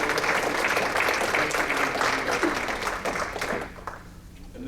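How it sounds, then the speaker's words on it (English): Audience applause at a business luncheon of a higher education council, a steady wash of clapping from a roomful of people that holds strong, then thins and fades out near the end. "Give yourselves a round of applause"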